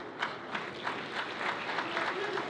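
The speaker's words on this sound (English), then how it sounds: "One more round of applause for Mr. Jad." Audience applause at an awards ceremony, a steady, dense clapping from a crowd with rhythmic surges, continuing throughout without speech.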